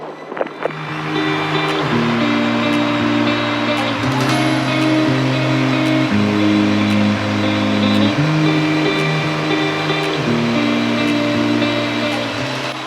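A Piper PA-28 light aircraft's piston engine building to full power for takeoff on a runway, a loud, steady droning hum heard from inside the cabin that shifts pitch in stepped changes, after a couple of faint clicks at the start.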